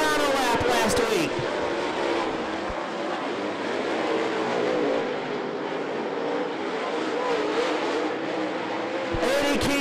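Steelhead late model stock race cars roar around an oval track at I-75 Raceway in a heat race, a dense continuous engine drone with cars passing close, under a race announcer's commentary.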